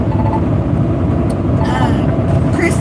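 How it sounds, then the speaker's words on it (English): Engine and road noise from a new truck being driven, a steady broadband rumble throughout with brief lighter sounds on top. "Yep, it's a new truck."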